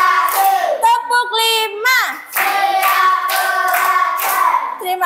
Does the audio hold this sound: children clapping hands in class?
yes